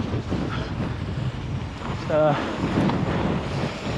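Gusty wind buffeting the microphone on a cold day at a Welsh mountain bike park, a steady roar with low rumbling, and a short spoken word partway through.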